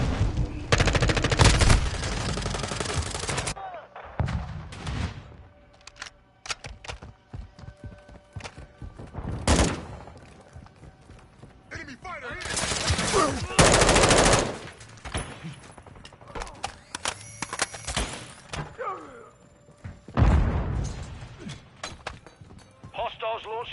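Bursts of automatic gunfire in Modern Warfare 2, loud volleys separated by quieter gaps of footsteps and game noise, with a player talking between shots.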